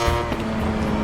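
Motorcycle engine accelerating on the Doha circuit in the MotoGP 22 video game on PS4, a loud, steady harmonic engine drone held close throughout with a rising pitch.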